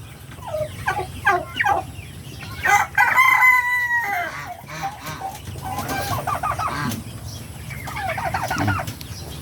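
Native chickens clucking in scattered bursts alongside a nearby turkey gobbling, with a rooster crowing in the mix; fairly close farmyard birds calling intermittently over a low background hum.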